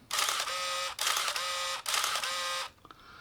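A motor winder on a Canon EOS 750 film camera winds on in three close whirring bursts of nearly a second each, separated by brief gaps, followed by a couple of faint clicks.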